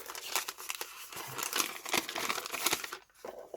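Paper is crinkled and torn off close up at a craft table, with dense rustling and ripping for about three seconds that then stops abruptly.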